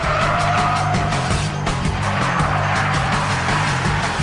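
An Audi Quattro braking hard on a race track from over 100 miles an hour, a loud, steady engine drone with a rough, gritty tire noise running underneath, close and continuous.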